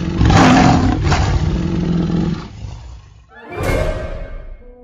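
A lion roars loud and close in a deep, rasping bellow that trails off, then a second, shorter roar follows after a brief pause, with no talking.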